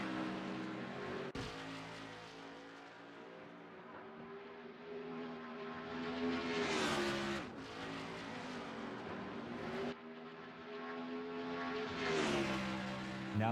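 A race car on an oval at Phoenix accelerates hard to begin its lap, its engine rising and falling in loud revving sweeps with sharp gear-change breaks, heard from a distance with no talk over it.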